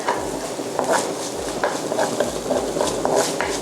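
Tofu is stir-fried in a pan for khua kling, with a steady sizzle under repeated scraping strokes of a utensil against the pan, close and fairly loud.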